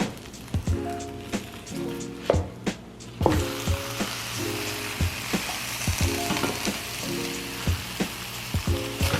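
Okonomiyaki, a Japanese pancake, frying in a pan with a steady crackling sizzle and irregular sharp pops and taps, fairly quiet at first and then louder and busier partway through.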